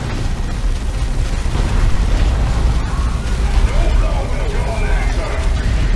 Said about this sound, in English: That's a nice orbital bombardment right there